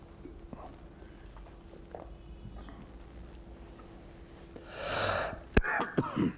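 Quiet room noise, then a breathy wheeze and a sharp cough followed by a couple of smaller coughs near the end.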